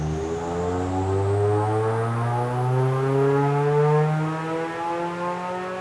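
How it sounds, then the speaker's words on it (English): A supercharged Mazda MX-5 engine runs at full throttle on a dyno, a loud steady drone whose pitch climbs smoothly through the whole pull with a rising whine above it and no talk. "start my data log, up, full throttle, hopefully we get a bit more boost this time."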